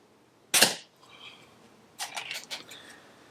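A Snowpeak SP500 air pistol fires RWS Diabolo target pellets: one sharp, loud crack at close range, followed a moment later by a cluster of quicker, fainter ticks and clicks, with no talking.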